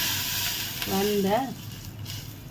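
Cashews and almonds roasting in ghee in a kadai give a soft steady sizzle with faint stirring scrapes, and someone speaks over it.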